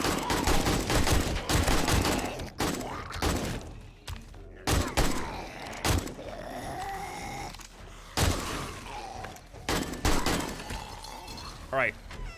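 Gunfire in 7 Days to Die during a horde fight: repeated sharp shots in bursts and single cracks, loud and dense, with shattering impacts and a voice talking over the action.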